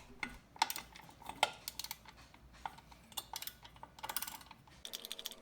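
M5 hex bolts are turned out by hand one at a time from a cover plate near a floorboard, producing faint, scattered metallic clicks and light ticking in an otherwise quiet space.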